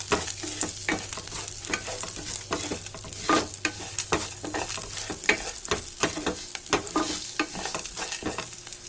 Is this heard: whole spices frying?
yes